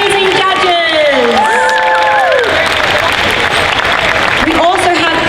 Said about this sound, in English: Big round of applause for our amazing judges